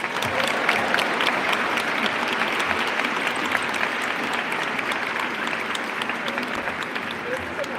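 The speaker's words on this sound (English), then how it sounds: "can we give a big round of applause for Secretary Jones?" Audience applause for Secretary Jones at an Immigrants' Day gathering in the Massachusetts State House, sustained and fairly loud, a thick, even clapping from a sizable crowd lasting the whole stretch.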